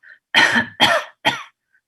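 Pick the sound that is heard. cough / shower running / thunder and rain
cough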